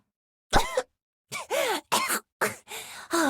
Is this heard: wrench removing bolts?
no